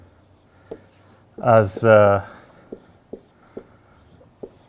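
Chalk or marker strikes on a board during a mathematics lecture on self-similar Markov processes: several distinct, spaced taps and strokes, close and crisp, following a brief spoken word from the lecturer.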